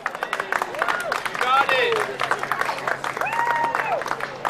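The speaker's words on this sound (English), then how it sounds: "they're going to show it with a round of applause right now" A street fair crowd watching a sword swallowing sideshow breaks into applause for a volunteer, a steady patter of clapping mixed with cheers under a man's close, clear talking.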